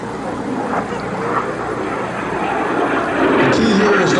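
An L-39 Albatros jet performing aerobatics at the 2011 Culpeper Air Fest gives a loud, sustained engine roar that swells toward the end, heard from the crowd with outdoor wind noise.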